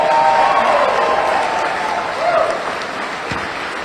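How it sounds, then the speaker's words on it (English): Audience applause and cheering at a mayoral victory speech in Mobile, a steady dense wash of clapping from a crowd, loud and continuous throughout. "let's give them a big round of applause."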